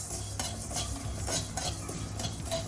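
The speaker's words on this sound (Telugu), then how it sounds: "రెండు చెంచాలు మెంతులు, ఒక చెంచా జీలకర్ర, ఒక చెంచా ఆవాలు వేసి కొంచెం వేయించాలి." Fenugreek, cumin and mustard seeds dry-roast in a pan, stirred with a metal spoon in repeated scraping strokes over a faint sizzle, close and fairly quiet.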